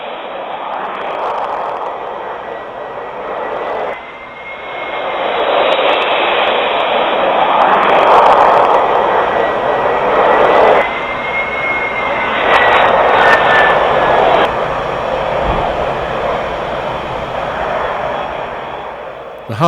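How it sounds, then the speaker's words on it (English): An airliner's engines roar loudly as it approaches and lands at Kai Tak Airport in Hong Kong, a sustained swelling rumble with whining tones, with a voice talking over parts of it. "the approach and landing at Kai Tak Airport, where the runway is a finger of land reclaimed from the harbour"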